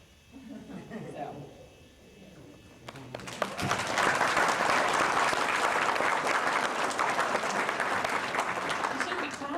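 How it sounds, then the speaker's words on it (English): Audience clapping at a fan convention, Starbase Indy 2006, starting after a brief stretch of talk and swelling into loud, sustained applause that carries on steadily to the end. "You shouldn't be clapping."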